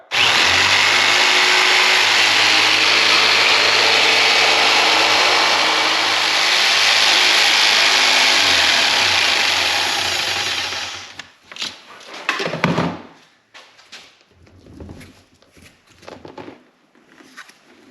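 A power tool blade cuts into a pumpkin with a loud, continuous buzzing whine for about eleven seconds, then breaks into short, choppy bursts and scraping bumps as the cutting turns intermittent.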